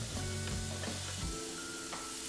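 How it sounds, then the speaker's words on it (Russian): Onion sizzling steadily in vegetable oil in a frying pan, a close, continuous crackling hiss with a few faint clinks of a utensil. "Нальем немного растительного масла для жарки. Первым сюда положим лук."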